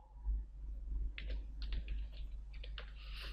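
Computer keyboard being typed on in short irregular clusters of light clicks, faint and close against a low background hum.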